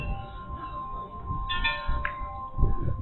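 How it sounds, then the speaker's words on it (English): Wind chimes outdoors in a rising wind give a few sparse, bright metallic rings over low, gusty wind rumble. "Look at this. Wind chimes."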